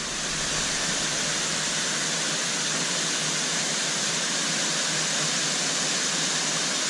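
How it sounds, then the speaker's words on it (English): Waterfall at Ricketts Glen State Park, a steady broadband rush of falling water that stays loud and unbroken throughout, with no voices over it. "So at about 100 feet from the last one is the next waterfall."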